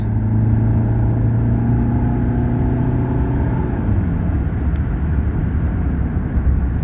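A 1988 Dodge Aries 2.5-liter engine hums loudly nearby, its tone rising and shifting as it accelerates, with road and wind noise underneath and no voices.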